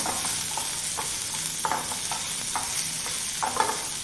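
Cumin seeds and coriander sauté in oil in a pan for an okra thecha, a bright continuous sizzle punctuated by regular spatula stirring strokes, close and clear with nobody speaking.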